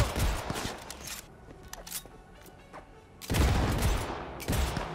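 Pistol fire in Cyberpunk 2077 cracks out in quick clusters of shots, loud and close, separated by a quieter pause before another sharp burst.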